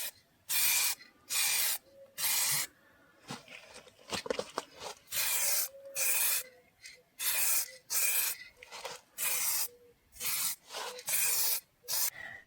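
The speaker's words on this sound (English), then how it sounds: "And now we're going to prime it." Repeated hissing bursts of spray primer on Lada car bodywork, each lasting about a second, come in a steady on-off rhythm with brief quiet gaps between them.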